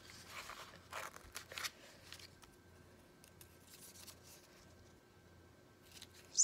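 Scissors snip a rectangle from junk mail paper, with a few close crisp cuts early, then quieter paper rustles and a final sharp snip.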